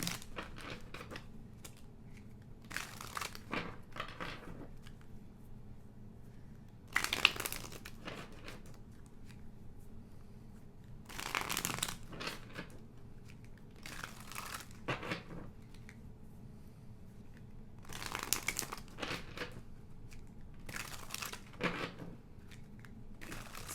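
Tarot cards being shuffled in repeated bursts of crisp riffling and crinkling, each flurry lasting a second or two with quiet pauses between, close and moderately loud against a faint room hum.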